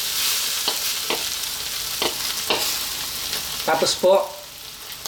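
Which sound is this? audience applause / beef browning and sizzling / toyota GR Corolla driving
beef browning and sizzling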